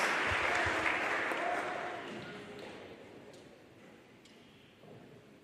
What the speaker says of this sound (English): please join me in a round of applause in appreciation for our veterans